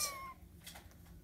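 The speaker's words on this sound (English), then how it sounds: "Brown Sugar produces really good quality kittens." A three-week-old kitten from a Bengal-type litter lets out a short high meow at the start, followed by faint rustling in a quiet room.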